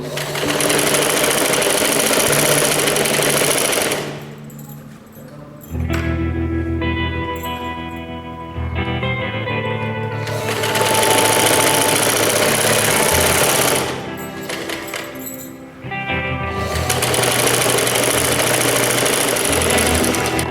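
A sewing machine stitches a fabric strip onto capri trousers in several loud, close bursts, pausing twice briefly between runs of rapid mechanical chatter.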